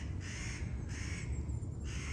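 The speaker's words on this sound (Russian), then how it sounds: "Даже ворона со мной согласна. Или кто это каркает?" A crow caws three times in a slow, evenly spaced series at middle distance, heard outdoors in a summer forest over a steady low rumble of wind or ambient noise.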